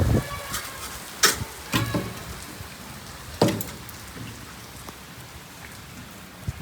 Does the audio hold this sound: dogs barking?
no